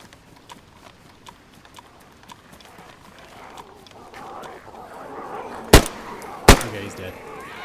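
Pistol gunshots in the survival video game DayZ: two loud, sharp cracks ring out a second apart near the end, after a stretch of rhythmic footsteps and rising background noise.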